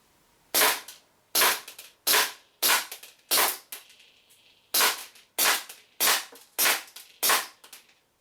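WE P08 Luger pistol fired during a 10-metre accuracy test, giving ten sharp, crisp shots at a steady pace of roughly one every 0.7 seconds, with a short pause after the first five, each followed by a quick echo.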